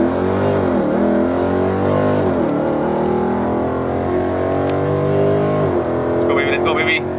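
A car launches hard down a drag strip at a track day, its loud engine note climbing steadily and dropping back at each gear change before pulling up again.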